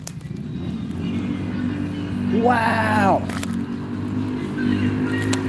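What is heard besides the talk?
loud motorcycle passing on the road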